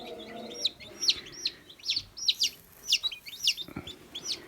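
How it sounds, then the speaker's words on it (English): Newly hatched Bielefelder chicks peeping, a rapid series of high, bright chirps repeating about every half second, close and clear over quiet background. "Here, this is a Bielefelder rooster."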